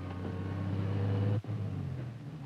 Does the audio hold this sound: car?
yes